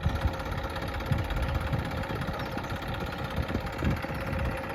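A tractor engine idles steadily nearby, a low rumbling drone with faint knocking and vibration, no talking over it.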